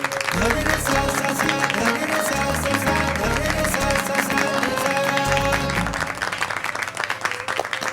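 An audience applauds after a stage performance at a televised family drama event. The dense clapping is mixed under loud music with a heavy beat that plays throughout.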